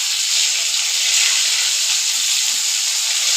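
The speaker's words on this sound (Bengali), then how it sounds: "আমি মাছটা তো দেখো ভেজে নিচ্ছি" Rohu fish fries in a pan, giving a steady, loud hiss of oil with faint low pops and no talking.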